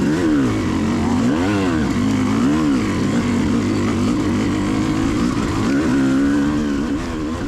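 A dirt bike engine labors through a slow, technical section of a cross-country race at Powerplex Park, revs repeatedly rising and falling close to the microphone in a loud, continuous burble without talk.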